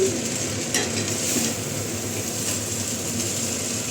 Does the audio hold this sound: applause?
no